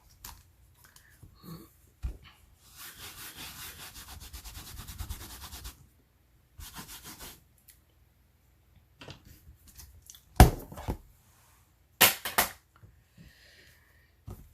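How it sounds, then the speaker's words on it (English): Rubber stamp scrubbed clean on a Stampin' Scrub pad during card making, giving bursts of rapid scratchy rubbing with brief pauses, a few sharp taps and a louder knock near the end, close and alone without talk. "Then I will use our Stampin' Scrub one more time."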